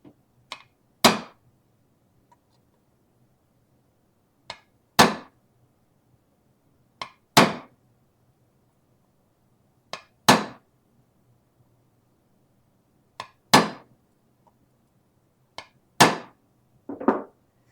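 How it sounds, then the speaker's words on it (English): Sharp hammer strikes land on Mandalorian shoulder armor trim, about a dozen crisp, close blows arriving in pairs and small clusters with quiet gaps between them. "different jobs require different hammer blow techniques"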